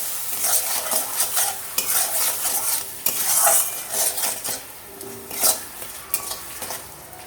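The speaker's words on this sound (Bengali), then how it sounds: "খুব ভালো করে নাড়িয়ে নেব" Ginger, cumin and radhuni paste with salt and turmeric frying in a pan, stirred vigorously: repeated scraping strokes of a spoon against metal over a soft sizzle.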